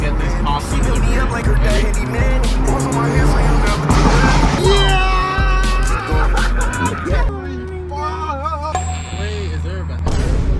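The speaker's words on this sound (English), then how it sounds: "Let's hear how loud we can get these pops into the bridge." Hyundai Elantra N with a 370 whp cherry tune, exhaust pops and crackles echoing loudly under a bridge, sharp repeated bangs over a steady engine drone with people talking and shouting inside the car.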